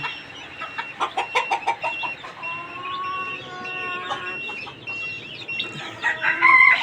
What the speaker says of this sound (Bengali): আর এই যে মুরগি সব হাঁপাইতেছে